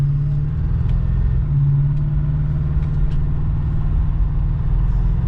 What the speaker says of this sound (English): Last drive in the Impala.